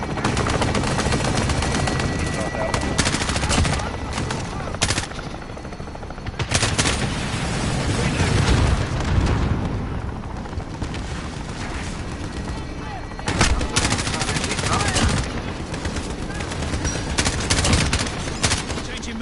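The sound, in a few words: gunfire from a gun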